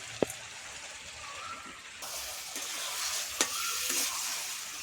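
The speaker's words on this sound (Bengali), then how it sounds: "তেল ছেড়ে গেছে, এবার বেগুনটা দেব।" Eggplant goes into sizzling spiced oil for tuna fish curry, a close, steady frying hiss that swells after a couple of seconds, with a few sharp knocks of a spoon against the pan.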